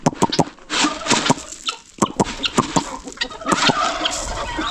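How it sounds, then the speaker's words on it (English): A flock of pigeons kept on a small poultry farm calls close by in a busy, irregular chorus of loud cooing and clucking bursts, with no speech. "I want to show you how many pigeons we have."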